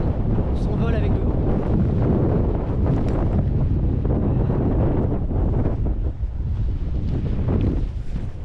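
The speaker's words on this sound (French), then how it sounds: "On s'envole avec le vent" Strong, gusting wind buffets the microphone on an exposed coastal hiking trail on the Crozon peninsula in Brittany, a loud, continuous roar that swells and eases. The sea is faintly audible beneath it.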